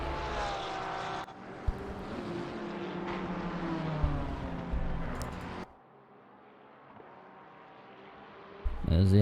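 In a GT3 racing video game, a Porsche 992 race car engine drones at a high pitch, shifting and falling away, then drops to a quieter hum before a sharp burst near the end.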